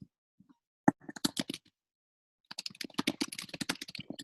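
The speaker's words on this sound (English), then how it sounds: "Someone's typing furiously." Rapid typing on a computer keyboard, close and crisp, in two quick flurries of key clicks with a brief pause between them and no voices.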